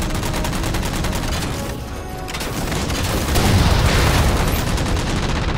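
Dense, sustained gunfire from a Halo 4 battle as players shoot down jammers: rapid overlapping automatic shots and booming impacts fill the whole stretch, loud and continuous, briefly dipping then swelling again.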